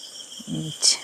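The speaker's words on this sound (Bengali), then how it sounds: "ঝিঝি পোকা ডাকছে" A constant, high, thin trill of crickets runs steadily throughout, with a brief low voice sound in the middle.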